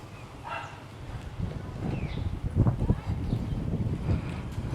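Street dogs barking early in the morning on a quiet party street in Hua Hin, Thailand, with several irregular barks and yips at moderate distance over wind noise on the microphone.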